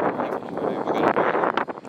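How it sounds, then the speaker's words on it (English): Wind buffets a microphone outdoors beside a cammed LS-swapped Chevrolet C10 truck, a loud, rough, continuous rumbling roar with gusty surges. "Sorry about the wind, guys,"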